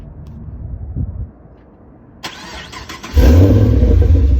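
A 2010 Camaro SS with the L99 V8 cranks briefly after some quiet handling noise, then fires and settles into a loud, deep, steady idle up close.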